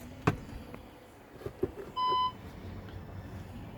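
VW Caddy Maxi Kombi dashboard giving a single short electronic beep as the ignition is switched on, clear over a quiet cabin with a few faint clicks before it.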